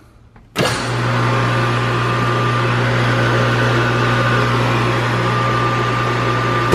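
A Twin Busch scissor lift's electric motor kicks on abruptly and runs with a steady, loud hum and whine, close by, for several seconds, with a small clunk at the end.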